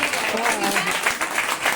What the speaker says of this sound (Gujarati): ચલો બધા તાળી પાડી લો એકવાર.